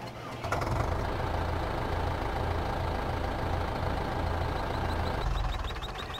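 The engine of a Hürlimann Prestige turbo 90 tractor with a small trailer idles in Farming Simulator 15, a steady low rumbling drone that holds for several seconds, then a run of faint high beeps near the end.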